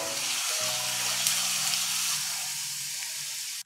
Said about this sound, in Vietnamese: Mình sẽ phi cho thơm lên nhé.